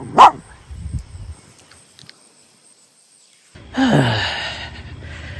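A dachshund barks: one sharp bark right at the start, then after a few quiet seconds a longer, strained bark-yelp around the four-second mark, both close by.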